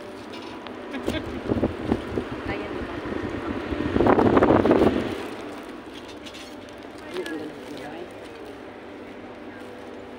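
Gusty wind buffets the microphone in bursts, strongest for a moment midway, while people talk nearby.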